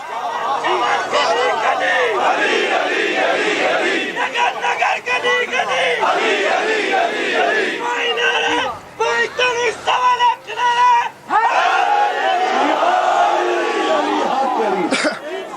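A large religious gathering chants slogans in loud rhythmic bursts close by, with brief pauses between shouts and scattered voices and coughs between them.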